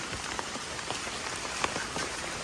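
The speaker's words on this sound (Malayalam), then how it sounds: "മഴയുടെ നാച്ചുറൽ സൗണ്ടൊക്കെ കേട്ട് നമുക്ക് ഇങ്ങനെയിട്ട് പോവാം" Steady rain pattering on a surface, with scattered individual drops ticking through the dense hiss; no voices.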